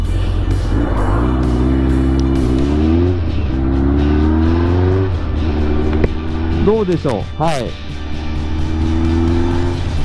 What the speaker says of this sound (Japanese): すごくエンジンの音も静かで滑らかで